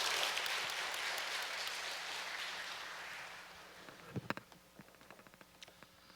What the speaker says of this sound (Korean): 신경인국 UPF 신인선 부회장님을 환영의 박수로 모시겠습니다